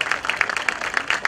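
An audience applauds two honoured guests at a talk session: a brief, steady round of rhythmic hand-clapping at moderate volume, with no voices over it.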